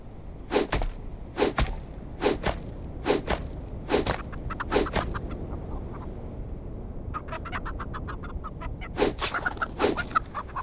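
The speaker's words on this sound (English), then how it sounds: "That's so much blood from this chicken." Chickens in the Minecraft video game cluck in repeated short bursts, often in quick pairs, at a steady moderate level over a soft background, with no talking.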